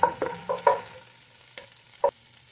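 Chili and onions sautéing over high heat, with a few distinct stirring clatters and soft sizzling, close by and without talk.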